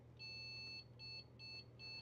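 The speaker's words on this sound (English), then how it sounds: "Right, we've got a single beep, like it's going to post." A PC motherboard sounds a POST error code: one long, high-pitched electronic beep and then three short beeps in an even rhythm, faint over a steady low hum.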